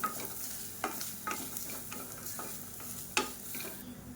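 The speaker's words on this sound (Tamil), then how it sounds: "இதையும் சேர்த்து நல்லா வறுத்துக்கலாம்." Grated coconut dry-roasting in a pan, quiet and close, with a faint crackle and repeated scraping strokes of a spoon stirring at an uneven rhythm.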